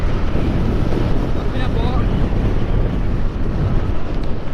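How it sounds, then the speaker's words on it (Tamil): Strong wind roars into the microphone with heavy, constant buffeting and a low rumble, and a faint voice briefly surfaces underneath. "இந்த இடத்துல பார்த்தீங்கன்னா அந்த லெவலுக்கு காற்றடிக்குதுங்க."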